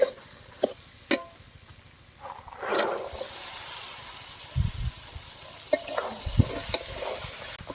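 Mutton fat being stirred together with boiled ghugni and potatoes in a hot pan, giving a steady sizzle broken by scraping spoon strokes and a few sharp clinks against the pan.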